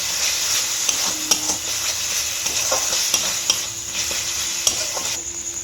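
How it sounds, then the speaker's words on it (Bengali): A spice paste with cumin and coriander powder fries in oil for a yogurt katla fish dish, giving a steady, close sizzle broken by repeated sharp clicks of a spoon stirring against the pan. "দিয়ে ভালো করে মশলাটা কষিয়ে নেব"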